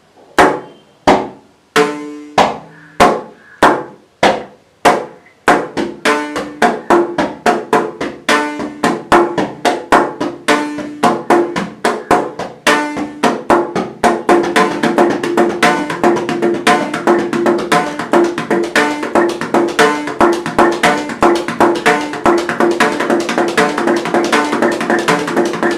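Carnatic rhythm syllables takatari kitataka played together on percussion, starting as a few slow separate strokes and then speeding into a dense, steady stream of rapid, loud hits.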